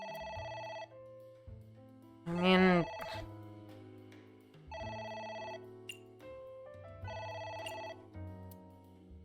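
Telephone bell ringing in the video game Ai: The Somnium Files, repeated electronic rings in a steady pattern with musical tones, briefly interrupted by someone speaking over it.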